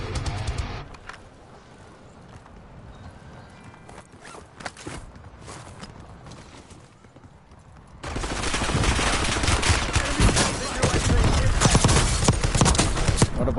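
Gunfire in Call of Duty Warzone Resurgence on Rebirth Island: scattered shots and footsteps at first, then from about the midpoint a dense, loud stretch of rapid automatic bursts and crackling shots.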